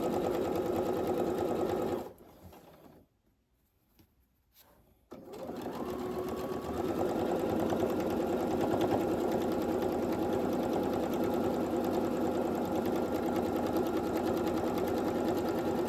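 A sewing machine stitches fabric for a machine cover with pockets, running in a steady whirring buzz, pausing briefly for a quiet gap, then resuming and running continuously.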